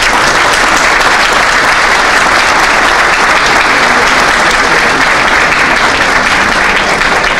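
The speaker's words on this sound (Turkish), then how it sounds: "hepinizle çok kuvvetli bir alkış rica ediyorum" Loud, dense applause from a crowd of football club supporters at a fan meeting, a steady wash of clapping sustained throughout without a break.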